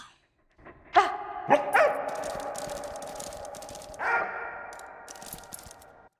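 Dog barking in the video game Valiant Hearts: Coming Home, a few sharp, loud barks spaced apart, the last one ringing out, against an otherwise quiet background.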